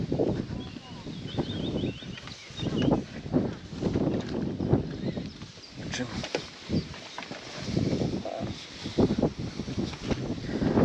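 Gusty wind buffets the microphone in uneven bursts while people talk throughout, at a feeder fishing competition on the Bug River.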